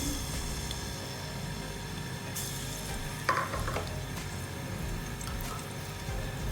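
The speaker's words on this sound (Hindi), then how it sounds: "अब मैं इसे हल्का सा फ्राई करूँगी।" Chopped garlic frying lightly in about two tablespoons of oil in a pan gives a steady, even sizzle, close by, with a brief stirring clatter partway through and no talking.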